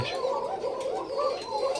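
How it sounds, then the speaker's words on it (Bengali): White pigeons cooing close by in a loft, a few soft rolling coos in quick succession, alone without talk. "এখানে মোটামুটি সাদা কবুতর"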